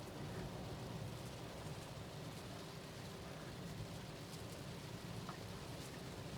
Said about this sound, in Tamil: மழை நல்லா பெய்யுது